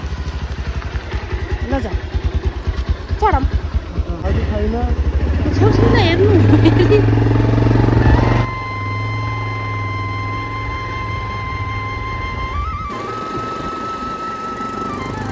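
A motorcycle carries two riders on a ride to Sile, a hill village, under dark rain clouds. The engine drones steadily and is loud and close, with a rising tone near the end. People talk over it early on.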